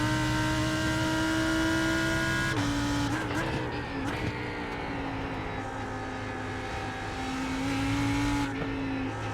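Lamborghini Huracan GT3 Evo race car with its V10 engine in iRacing at Spa drones steadily at high revs, the pitch holding, dipping briefly at a gear change and then climbing again, loud and continuous.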